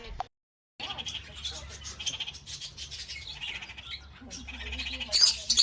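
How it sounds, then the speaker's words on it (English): Parrot squawking in harsh, raspy calls that run almost continuously after a short gap, loud and close, with a voice heard at the start. "P for parrot."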